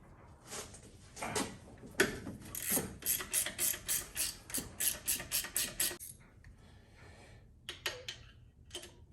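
Ratchet wrench working 13 mm alternator bolts on a Mustang, a run of rapid, evenly spaced clicking bursts near the mic, then a pause and a few more short ratcheting strokes.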